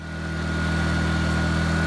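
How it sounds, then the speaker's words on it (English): A small portable generator engine with a worn cam runs steadily under a 1500 watt load, a smooth, even mid-pitched hum with a constant drone and no talking. "Here's the generator running with a 1500 watt load."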